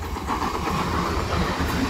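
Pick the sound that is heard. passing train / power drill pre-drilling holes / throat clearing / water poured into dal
passing train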